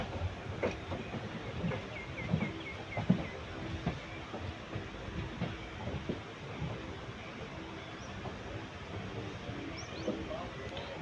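Steady rumbling of a moving Tiruchirappalli to Erode passenger train in India, with rhythmic clacking over the rails, continuous and fairly loud throughout.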